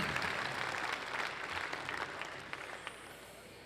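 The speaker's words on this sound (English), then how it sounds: "How about a round of applause for Wes Durham?" A banquet audience applauds the master of ceremonies, Wes Durham, a fairly distant, steady round of clapping that gradually thins toward the end.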